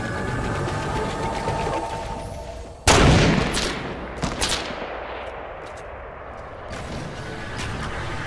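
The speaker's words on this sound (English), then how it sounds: "They're kind of firing at you from behind." Gunfire in the video game Fortnite: a sudden loud burst of shots rings out over steady background game noise, followed by a few scattered, fading reports.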